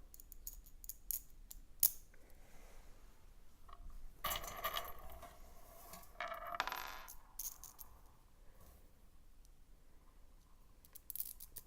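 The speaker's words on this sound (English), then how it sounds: "take these screws and put them through" Small metal screws clink and rattle as they are handled and pushed through holes during assembly of an open-source rover body, with sparse, quiet clicks and one sharper metallic tap, close by.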